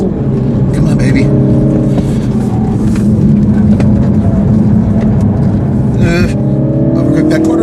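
A small front-wheel-drive car with an automatic transmission is driven hard, its engine droning loudly under sustained throttle with shifting revs, a voice speaking briefly over the noise.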